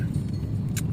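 Cars idling and creeping in a morning traffic jam in Palembang, a steady low engine rumble close by, with a brief jingling rattle near the end.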